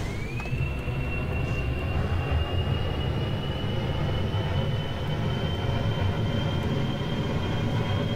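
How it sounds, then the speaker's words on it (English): A spacecraft's jet engine in a video game spools up with a rising whine that settles into a steady high tone over a loud, constant low roar of lift-off, unbroken for several seconds. "Throttle to maximum, SAS on."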